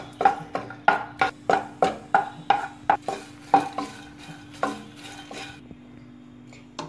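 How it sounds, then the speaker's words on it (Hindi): Dry fruits being roasted in ghee in a pan for jaggery laddoos, with about a dozen crisp, evenly spaced stirring scrapes close by, quickly fading out toward the end. "इसके बाद सारे ड्राई फ्रूट्स को हम ऐसे घी में भून लेते"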